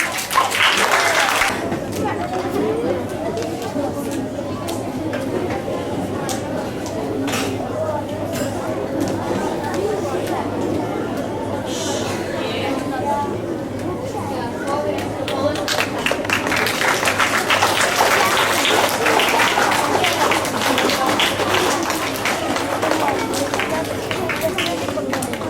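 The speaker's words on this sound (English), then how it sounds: "Let's give him a big round of applause." School assembly audience applauding, a broad crowd clapping that swells near the start and again more strongly in the second half, mixed with murmuring voices and chatter.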